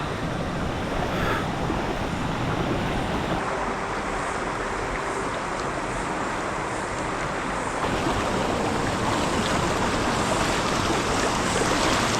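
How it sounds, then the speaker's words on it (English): Water from a flash flood pours over a waterfall in a steady, loud, broadband roar that fills the whole clip close by, with no voices over it. "There's no point sitting here watching this waterfall all day waiting for it to go down."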